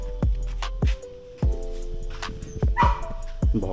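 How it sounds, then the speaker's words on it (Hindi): A dog barks near the mic in a string of sharp, loud woofs at an uneven pace, roughly eight barks with brief gaps between them. "भौंकने लगा बेचारा।"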